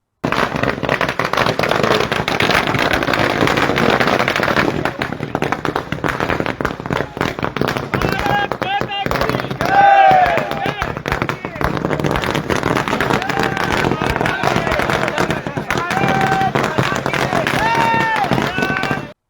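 Firecrackers burst in dense, continuous crackling volleys at a BJP candidacy celebration in Chhani, Vadodara. Loud, steady popping fills the whole stretch, with crowd babble and shouting underneath and occasional whistling tones.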